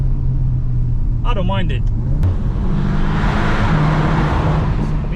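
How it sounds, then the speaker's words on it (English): Wind and road roar build around a 2023 VW Arteon R Shooting Brake on the move, a steady rushing hiss over low engine rumble, with a brief spoken remark early on. "It's just air rushing."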